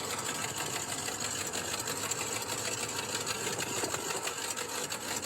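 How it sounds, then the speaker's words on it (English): Loud, raspy exhaust from the V8 of a classic station wagon with a bad exhaust leak at the manifold, a dense steady rattling drone running continuously up close without pause. "it's kind of hard to tell over that exhaust. That's pretty loud."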